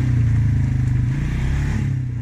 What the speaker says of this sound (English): The edited highlights of about 2 hours worth of driving around in these buggies.